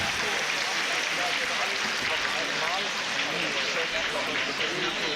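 An arena crowd at the 2007 European Figure Skating Championships men's free skate applauds a performance, a continuous, even roar of clapping held at steady volume throughout.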